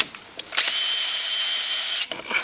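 A drill converted into a rattle gun with a 9mm socket spins hard against a wheel stud, giving a loud, high whirring burst of about a second and a half, with shuffling and handling noises before and after.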